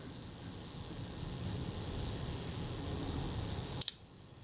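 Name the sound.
camera shutter firing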